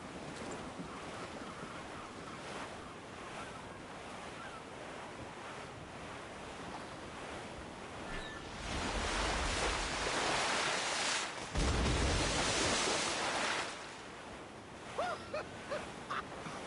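Ocean waves and squall wind at sea in Assassin's Creed Black Flag: a continuous rushing wash of surf and wind noise swells into louder gusty surges midway, then eases back, with no talk.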